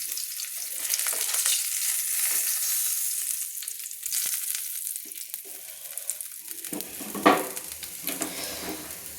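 Bata fish fry in hot oil, sizzling steadily up close, then a metal spatula scrapes and lifts the pieces out, with a few clinks and a louder clatter near the end.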